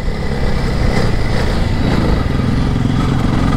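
An adventure motorcycle climbs steep hills on a ride out to a ghost town, its engine buzzing loud and close with slight rev changes as gears shift.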